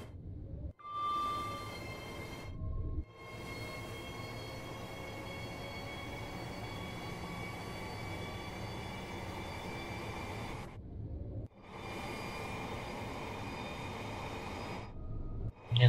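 Class 801 train in the game Train Sim World gives a steady, loud electric hum and rumble with sustained tonal whines that shift in pitch, broken by a few brief silent gaps.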